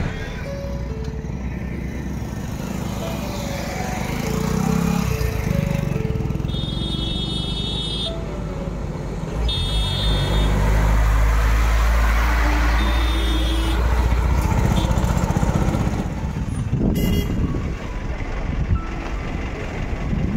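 A borewell drilling truck drives along, its engine a continuous heavy rumble that swells and eases over time. Short high electronic beeps sound intermittently, and faint background voices can be heard.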